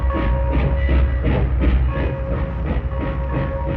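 A freight train running, a steady loud rumble with a rhythmic clickety-clack of wheels over rail joints, continuous and close throughout.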